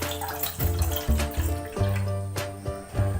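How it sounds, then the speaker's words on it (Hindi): Water is poured into a pot with crushed spices and torn bay leaves for an ayurvedic kadha, a close, resonant gurgling splash in short uneven surges with no voices. "ये मैं पानी डाल रही हूँ।"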